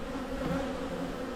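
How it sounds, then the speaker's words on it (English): Honeybees buzz in a dense, steady drone from an opened beehive during a late May inspection, close and continuous with no talk. "Decent amount of bees in here"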